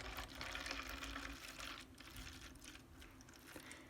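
Homemade soap nut liquid laundry soap is poured into a container in a steady, faint, continuous liquid stream with soft splashing and no speech.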